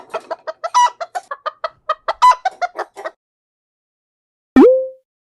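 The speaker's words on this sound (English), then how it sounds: "Chicken." Cartoon chicken clucking, a rapid run of about twenty short, bright clucks over three seconds, followed by a pause and one loud drawn-out squawk, clean and close with no other sounds.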